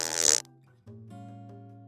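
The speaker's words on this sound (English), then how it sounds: "Nobody I know likes to fart, whether you can hear it or just know it's in the wind." A comic fart sound effect plays, a loud buzzing sputter followed after a short gap by a lower droning rasp.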